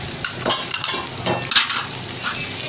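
Fennel and cumin seeds dry-roasting in a pan give a soft crackling sizzle with scattered light clinks and scrapes of stirring, fairly close, with no talking.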